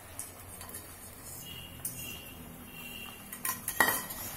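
Squid fried rice with scrambled egg being stirred in a pan: quiet scraping and the scuff of a utensil against metal, with a few sharp clinks near the end and a soft sizzle underneath.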